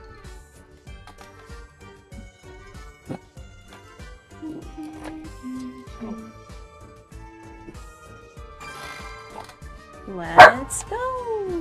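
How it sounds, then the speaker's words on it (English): A dog barks repeatedly in the background in short, spaced yips and barks under a person talking, ending with a louder, whining bark near the end. "Sorry if you hear my dog barking in the background."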